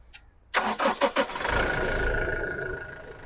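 A 2019 Toyota Innova Crysta Z automatic engine starting: a few quick cranking pulses, then the engine catches and settles into a steady, close idle.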